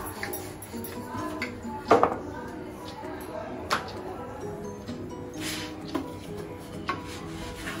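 Garlic butter naan is turned over in a pan, with soft scraping and rubbing plus a few sharp clinks and knocks of the utensil against the pan at irregular intervals.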